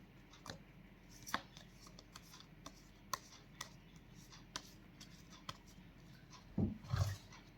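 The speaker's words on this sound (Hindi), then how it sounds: "एक बार और शफल कर लेंगे कार्ड को।" Angel oracle cards being shuffled by hand, a quiet series of soft papery flicks and taps spaced irregularly, ending in a slightly louder rustle.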